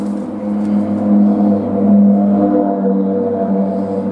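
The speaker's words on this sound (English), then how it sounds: "Noisy cars." Cars pass near a home garage where a Triumph Spitfire is being worked on, giving a loud, steady engine drone with rising and falling tones that swell briefly in the middle and fade slightly at the end.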